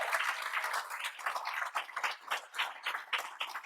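An audience claps for student jazz performers, a steady sustained patter of many hands filling the room at moderate distance, with no talk over it.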